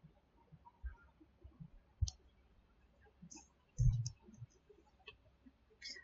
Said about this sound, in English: So when I double click it,